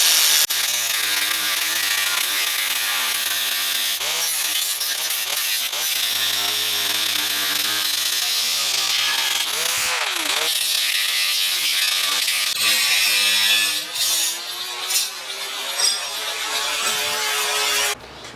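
A power tool cuts about half an inch to an inch off the end of a Bronco transmission mount. It gives a loud, harsh, continuous grinding close by, with the pitch rising and falling as the cut goes on.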